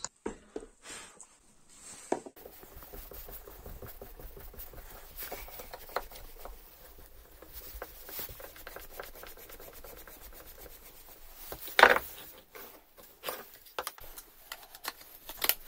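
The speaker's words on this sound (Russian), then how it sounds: "Далее на пластике все 3 отверстия зинкую." Repeated scraping and grinding of a small tool countersinking holes in plastic, in short rhythmic bursts with a sharp squeak near the end.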